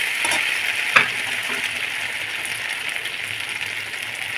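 Chili chicken fries in a pan while being stirred, a steady close sizzle with a brief scrape of the utensil near the start.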